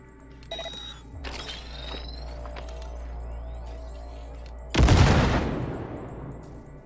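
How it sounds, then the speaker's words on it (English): A grenade detonates in Cyberpunk 2077 as one sudden loud broadband blast, its rumble decaying over the last two seconds after a stretch of low droning game ambience with faint mechanical tones. "Now, detonate the grenade."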